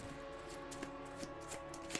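Deck of game cards being shuffled for a Mutant Genesis campaign, soft papery riffles and taps recurring in short bursts over a steady musical background, fairly quiet.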